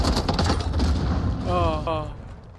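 Cluster mine explosions in Modern Warfare 2 roll out as a dense, loud burst of rapid booms and crackle, close, with a voice talking briefly over the tail end.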